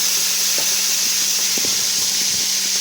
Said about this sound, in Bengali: সেই নুন দিয়ে মাখানো চিংড়িগুলো আমি এখানে তেলের মধ্যে দিয়ে দেবো